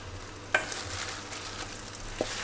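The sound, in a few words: spinach sizzling in butter in a hot frying pan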